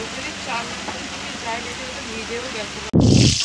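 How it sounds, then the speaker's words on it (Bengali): Steady rain hisses in the background while someone talks, ending in a sudden loud rush of noise close to the microphone. "আর গাইস এদিকে দেখতেই পাচ্ছ বৃষ্টিও চলে এসছে"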